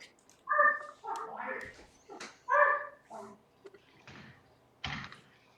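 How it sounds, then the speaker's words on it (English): Dog barking through an online board meeting microphone: several sharp, yelping barks in uneven bursts, fairly close but slightly compressed, alone without talk over them. "Is it possible for whoever's dog is barking to mute your mic, please?"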